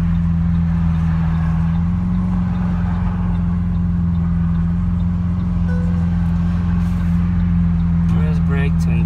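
A Lamborghini Aventador's engine idles loudly and steadily with a deep, even drone from start to finish, and faint voices are heard beneath it.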